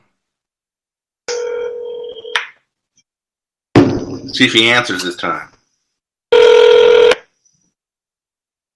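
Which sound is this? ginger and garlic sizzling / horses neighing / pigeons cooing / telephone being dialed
telephone being dialed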